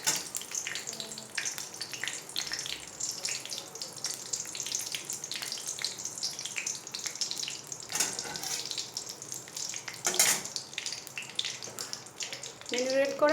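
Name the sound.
bay leaves sizzling in hot oil, chicken curry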